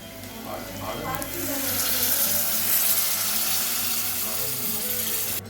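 First coconut milk poured into a pan of cooking ambarella curry, a steady liquid splash and gentle sizzle building up and holding close, with faint background noise.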